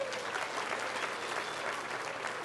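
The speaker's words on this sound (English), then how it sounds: "give yourselves a round of applause." An audience at a physics show applauds, a dense and even wash of clapping from many hands that holds steady for the whole stretch with no pause.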